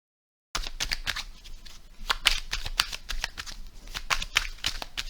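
Tarot cards for a Pisces reading are shuffled close up, a quick run of crisp riffling and slapping bursts that continue without a break after a silent start.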